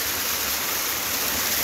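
Magana Falls in San Mateo, Rizal roars as a steady broadband rush of falling water, loud and close with no pause.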